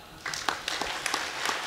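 Brief scattered hand clapping from an audience at a devotional satsang gathering, a short patter of claps starting after a quiet moment, fairly faint and without voices.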